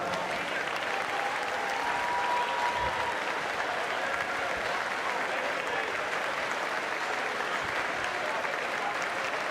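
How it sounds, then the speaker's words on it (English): Spectators at the YMCA national short course swimming championships in Greensboro give sustained applause to the seniors, a dense, even roar of clapping that fills the natatorium throughout with no break. "Keep those applause going."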